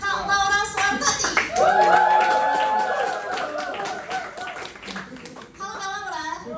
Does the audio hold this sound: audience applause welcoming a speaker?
yes